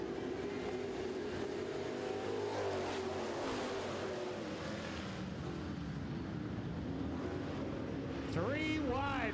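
Super trucks race on a track in a Hall of Fame feature race, a steady roar of engines rising and falling from middle distance, with an announcer talking over it throughout.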